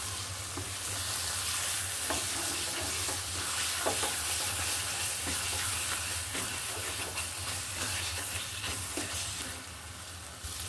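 Banana stem bhaji sizzles in a pan with a steady, continuous frying hiss and occasional soft stirring scrapes, close and even throughout with no talk.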